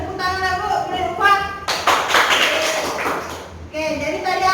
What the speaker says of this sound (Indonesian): Sudah, beri tepuk tangan dah Bu.